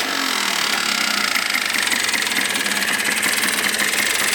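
A Yamaha Blaster 200 ATV engine idles with its airbox removed, a steady, dense, rattly two-stroke drone holding even and close throughout with no speech.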